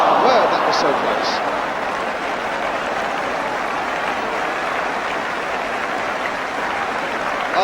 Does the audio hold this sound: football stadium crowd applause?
yes